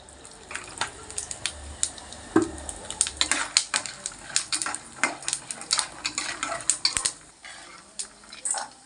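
Chana dal frying in oil in a pan, a soft continuous sizzle under frequent scraping and clinking strokes of a spoon against the metal, steady and close, with no voices.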